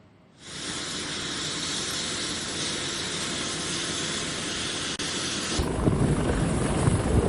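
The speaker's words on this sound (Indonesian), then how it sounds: "helikopter AS565 Panther dikerahkan dari KRI Semarang 594 untuk mendistribusikan bantuan kesehatan dan tim medis" An AS565 Panther navy helicopter, deployed from a warship to deliver medical aid, roars loudly as a sustained rotor and turbine wash, shifting tone toward the end with stronger low rumble.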